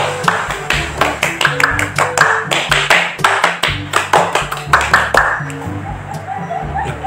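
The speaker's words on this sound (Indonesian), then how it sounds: "mending sekarang kalian tepuk pramuka dulu" Rhythmic Indonesian scout-style clapping (tepuk pramuka) by a group of students, quick patterned bursts of hand claps repeating for several seconds, loud and close, with voices mixed in and a thumping beat underneath.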